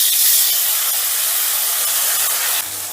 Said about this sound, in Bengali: ফোড়নটা থেকে বেশ ভালো মিষ্টি গন্ধ বেরোলে দিয়ে দিচ্ছি আমি সেদ্ধ করে বেটে রাখা মশলা